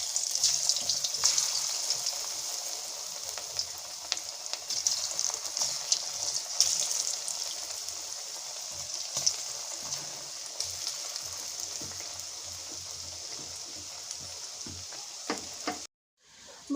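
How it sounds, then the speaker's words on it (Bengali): Cauliflower florets frying in oil give a steady, moderately quiet sizzle with fine crackles throughout, cutting out briefly near the end. "এবারে ফুলকপিগুলো ভেজে নেবো।"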